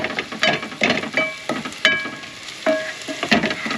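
Food frying in a pan while camping in a van, with bursts of sizzling and scraping stirs that come and go every half second or so, close and fairly loud.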